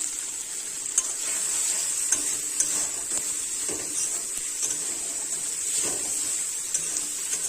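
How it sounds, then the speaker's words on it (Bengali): Onion, garlic, chilli and tomato fry with turmeric and salt in a pan, a bright, steady sizzle running throughout while a spatula stirs and scrapes, producing scattered small clicks and taps close by. "পেঁয়াজ রসুন লঙ্কা টমেটো সব এইরকম ভেজে নিতে হবে"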